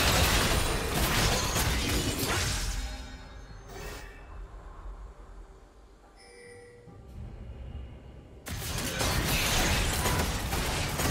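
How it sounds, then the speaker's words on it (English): Turret destroyed in League of Legends, heavy crumbling and crashing debris, loud at the start, fading to quieter game effects midway, then a dense loud burst returning near the end. "Blue team's turret has been destroyed."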